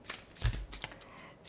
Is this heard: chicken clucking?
no